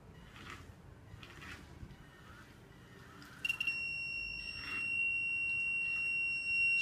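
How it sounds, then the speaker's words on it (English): A small electronic buzzer on an obstacle-detecting RC car sounds a steady high-pitched tone that starts partway through, after faint tapping and handling noises. "when an obstacle comes in front of the car stops working and the sound buzzer is activated"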